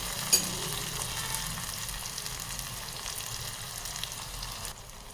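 Tomatoes sizzle steadily in a hot pan while being cooked down for a Khandeshi dry vegetable dish, a continuous crackling fry with a faint stir near the start and no voices.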